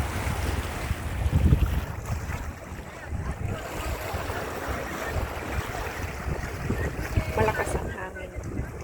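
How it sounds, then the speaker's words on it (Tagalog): Strong wind buffets the microphone beside choppy water at Repulse Bay, Hong Kong, a steady loud roar with water splashing throughout and a voice speaking briefly beneath it. "Malakas ang hangin."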